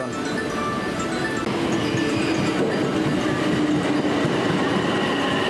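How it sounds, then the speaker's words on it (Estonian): A train rolls into platform 18 at an Osaka station with a continuous loud rumble and clatter of wheels close by, steady throughout. "18番乗り場に列車が参ります。"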